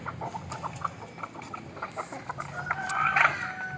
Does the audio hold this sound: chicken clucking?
yes